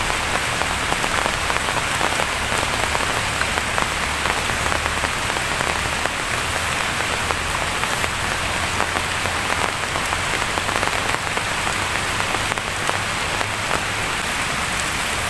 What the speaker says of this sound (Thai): กลางฝนนะครับท่านผู้ชม